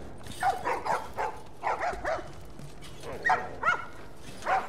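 Dogs in the video game The Last of Us barking and yipping in quick clusters, moderately loud over a low ambient game background.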